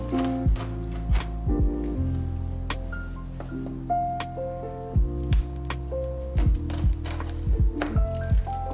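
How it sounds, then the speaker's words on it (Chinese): A knife cuts crispy homemade shaqima right in the baking tray, giving a series of sharp crunchy cracks and taps at an irregular pace over quiet background tones. "切的时候就已经能听到酥脆的声音了"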